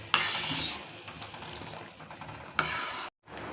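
Sugar syrup for rava laddu bubbles and sizzles steadily in a pan, with a louder burst of stirring near the start and again toward the end before a brief silent gap.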